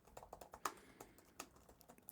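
Keys tapped on a Surface Pro Snapdragon X keyboard cover, a light, uneven run of quick clicks and taps, close and fairly quiet, with nobody speaking.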